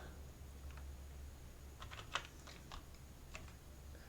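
Quiet keystrokes on a computer keyboard during a game of Moria, a few scattered taps and short bursts with one sharper click, close but faint with no talk.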